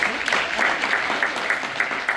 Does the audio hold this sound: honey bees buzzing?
no